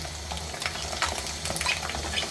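Chicken roast masala being sautéed in a pan, a continuous close sizzle with stirring scrapes and light utensil contact against the pan.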